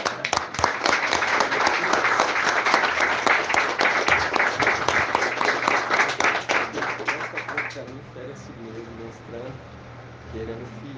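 A church congregation claps in a dense, rhythmic burst of applause for about eight seconds, then it fades into quieter room sound with faint voices.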